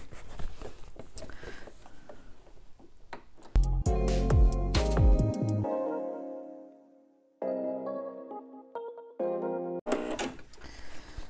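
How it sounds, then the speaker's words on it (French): A sewing machine runs through a 1 cm seam on a bag, its needle chattering in fast bursts broken by pauses and soft clicks of handling, close and fairly loud. "je vais coudre à 1 cm"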